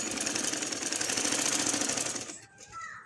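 A sewing machine runs in a steady, fast stitching burst while sewing a neck strip onto a garment, loud and close for over two seconds before stopping abruptly, followed by a brief fainter rustle.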